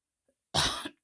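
A single harsh cough bursts out abruptly, lasting about a third of a second, close and fairly loud against near silence.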